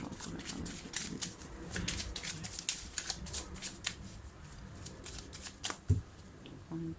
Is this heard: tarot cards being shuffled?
yes